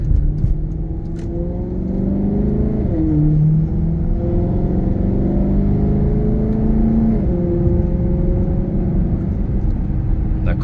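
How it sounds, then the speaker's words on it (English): A 2013 Maserati GranTurismo Sport with 42,507 miles drones steadily from inside the cabin on a test drive, its rising and falling harmonic tones tracking gentle throttle changes, loud and continuous with no talk over it. "The car sounds amazing."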